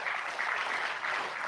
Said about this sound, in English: So I want to give a very big round of applause.